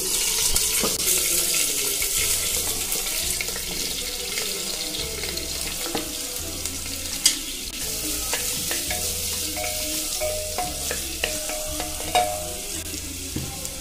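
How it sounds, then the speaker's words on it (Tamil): Two chopped onions frying in four spoons of oil in a pressure cooker for chana masala, a continuous close sizzle with repeated spoon scrapes and clinks against the pot, no talking. "ஆனியன் நல்லா கோல்டன் ப்ரௌன் ஆகிற வரைக்கும் நல்லா வதக்கி எடுத்துக்கலாம்"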